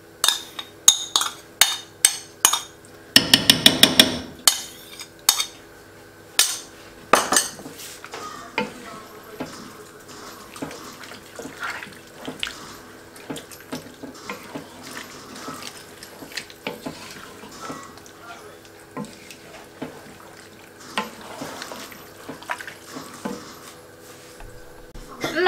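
White chicken chili with thick cream in a pot, stirred with sharp clinks and scrapes of a utensil against the pot, then a soft ongoing bubbling simmer with scattered small pops and clicks.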